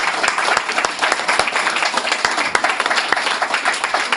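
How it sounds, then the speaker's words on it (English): A small audience at an evening talk gives Margaret a round of applause: dense, even clapping from many hands, close and continuous for the whole few seconds. "Round of applause for Margaret."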